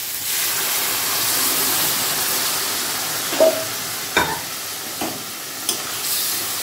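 Spices for ghugni sautéing in a pan with a little water added, giving a steady, fairly quiet sizzle and hiss close by, broken by a few short stirring knocks toward the end.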